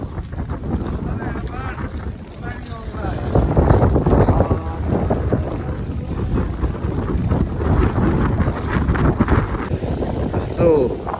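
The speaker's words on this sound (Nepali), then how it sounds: "बवाल हावा चल्न थाल्यो हौ" Strong wind gusting at a lakeside amusement park, roaring steadily into the microphone with water and boat-like rumble beneath and people talking over it throughout.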